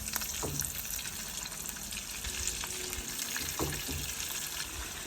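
Ribeye beef frying in butter in a pan gives a steady, close sizzle with a few soft scrapes and clicks from turning the meat, with no talk.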